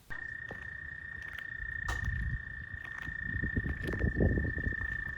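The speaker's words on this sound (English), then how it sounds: "Then I brought my wife outside to hear the noise and check out the frogs and the toads." Frogs and toads croaking outdoors at night, a dense steady chorus of rapid croaks with a constant high insect-like trill over it, swelling louder toward the end.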